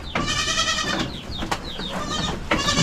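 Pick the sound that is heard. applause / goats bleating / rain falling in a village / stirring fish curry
goats bleating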